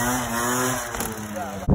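A stock Derbi Senda 50cc motorcycle engine drones in second gear during a wheelie, a steady buzzing rev that sags and loses power, ending with a sharp knock.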